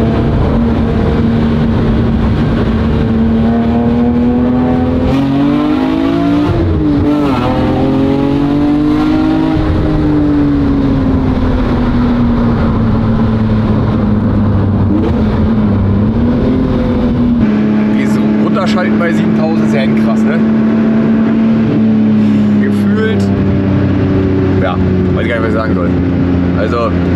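A BMW E46 M3 engine drones and revs while driving, a loud, deep, dull tone rising and falling through gear changes, heard from inside the car under steady conversation.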